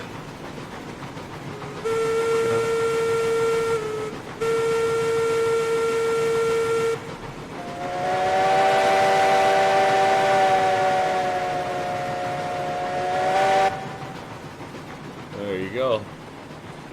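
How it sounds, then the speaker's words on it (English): Steam locomotive whistle in the railroad video game RailRoads Online, sounding in several long sustained blasts of a few seconds each, with a brief voice heard near the end. "I get a whistle from the head."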